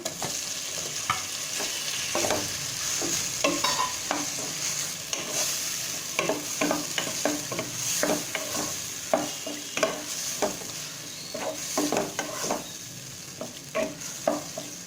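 Chicken pieces sauté with tomatoes and curry leaves in a pan, a steady sizzle broken by frequent scraping stirs of a spoon against the metal, close and fairly loud with no talking.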